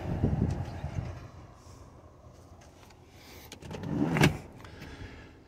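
A car door with a light tan saddlewood interior swings open: soft rustling, then a single sharp latch click and clunk near the end, close and fairly loud.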